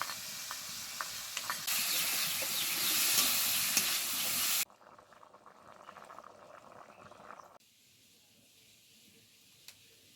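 Snails, diced potatoes and ginger-garlic paste cook in a pan with a loud, bubbling hiss that drops off suddenly, followed by quieter sizzling and scraping, then near silence with a faint tick.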